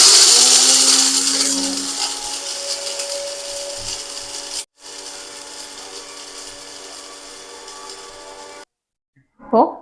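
An electric kitchen mixer grinder runs loud and steady, grinding a dry ingredient into powder; the whirring drone pauses briefly midway, resumes, then cuts off, with a short bit of talk near the end.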